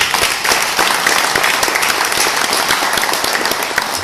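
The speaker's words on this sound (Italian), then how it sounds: "L'applauso Salvatore Mirabile." Applause for the Sicilian poet Salvatore Mirabile fills the space: a dense, loud, continuous clapping from an audience that holds steady for several seconds.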